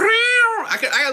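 A person imitates a cat meow with a drawn-out, rising then falling vocal cry, followed by a brief wavering tail, loud and close.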